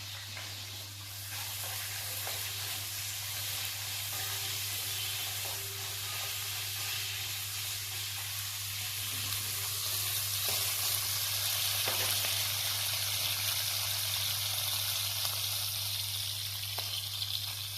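Green chillies and chopped onions sizzle in hot oil in a pan, a steady bright frying hiss that swells slightly over time, with a low constant hum of a kitchen appliance beneath.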